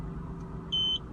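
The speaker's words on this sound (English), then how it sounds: "you hear the beep," Single short beep from the rear parking sensor of a VW Polo 6R as reverse gear is engaged, clear and close over a quiet idling-car background.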